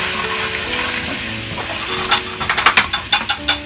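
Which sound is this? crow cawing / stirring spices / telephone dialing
stirring spices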